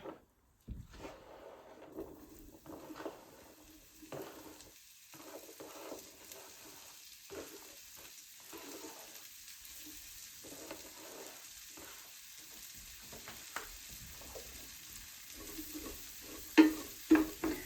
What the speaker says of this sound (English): We're going to get these cooking up.